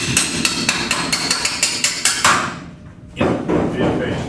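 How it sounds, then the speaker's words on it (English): Hammer taps on the metal body of a 1950 Chevy 5-window truck cab during installation, about a dozen sharp, evenly spaced metallic strikes close by, followed by a duller knock and shop noise. "Here, let me see, I'll tap it with a hammer."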